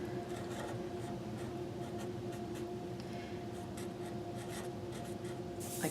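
A crayon prints uppercase letters on paper in quiet, steady scratchy strokes with short pauses between letters, close up and with no talking.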